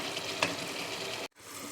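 Mutton biryani masala with yogurt bubbling in a pot, a steady close hiss and simmer with one small pop, briefly dropping out before resuming.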